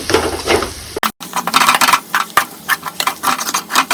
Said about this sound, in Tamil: மிளகாத்தூள், மல்லித்தூள், மஞ்சத்தூள், சிக்கன் மசாலா நல்லா மிக்ஸ் பண்ணி கொடுத்துடலாம்.